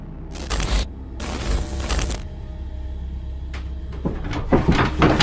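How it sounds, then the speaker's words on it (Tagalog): A wooden wardrobe rattles and shakes in loud, harsh bursts, its doors knocking and clattering, separated by quieter stretches. "Malakas na yumayanig ang aparador na tila pa may tao sa loob nito"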